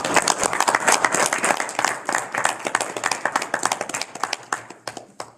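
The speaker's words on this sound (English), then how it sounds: "we can probably give all of these wonderful donations a huge round of applause" A school board meeting audience gives a round of applause for donations, with many hands clapping close and lively at first, then thinning into fewer, separate claps toward the end.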